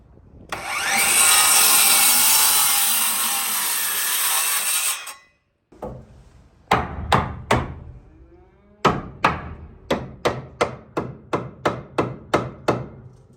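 A saw rasps steadily through wooden boards for several seconds, then a series of sharp, evenly spaced knocks follows, close and loud.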